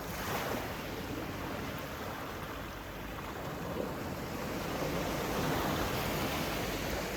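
Sea waves washing onto the shore on a fresh morning, a continuous soft hiss of surf rising and falling gently, faint and distant with no voices.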